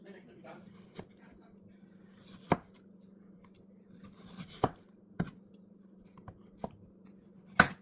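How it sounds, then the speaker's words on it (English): A knife slices a mango thinly, producing sparse, sharp taps against a cutting surface at irregular intervals over a low steady hum. "then we have to slice a mango, put on the grahams"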